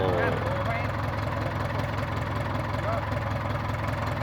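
A three-wheeler samlor's engine idles with a steady low rumbling chug close by, while people talk over it.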